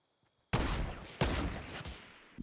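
Gunfire from the Fortnite video game: after a short silence, a loud burst of shots starts abruptly and a second burst follows within a second, each trailing into a noisy decay.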